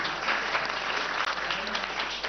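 Studio audience at a government quiz show applauding a team, a continuous dense round of clapping at moderate level, steady from start to finish apart from a brief dropout midway.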